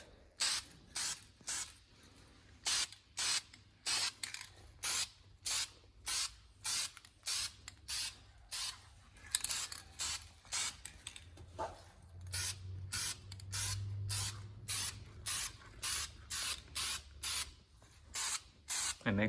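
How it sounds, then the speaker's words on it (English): Spray paint applied in thin coats to a brake caliper from a Mazda RX-7 FD, short hissing bursts repeated in a steady rhythm of about one per second, close and clear. "Don't spray too much paint at the beginning."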